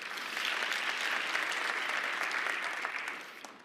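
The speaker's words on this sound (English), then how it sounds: "We invested, you can clap for that." An audience at New York City's 2015 State of the City address applauds, a dense burst of clapping that holds steady for a few seconds, then begins to fade.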